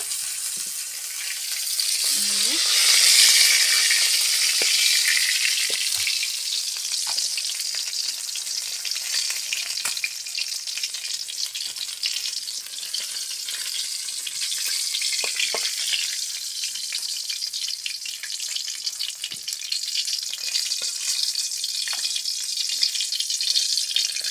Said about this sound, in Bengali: মাছ ভাজা হয়ে গেছে এখন নামাবো